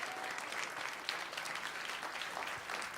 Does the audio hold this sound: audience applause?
yes